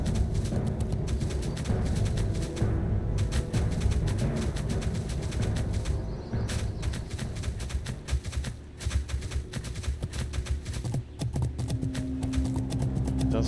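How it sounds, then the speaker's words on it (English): Rapid, continuous clip-clop of a fast horse mount's hooves in WoW Classic, loud and close, steady galloping rhythm throughout with brief dips. "It does feel nice to be on a faster horse now."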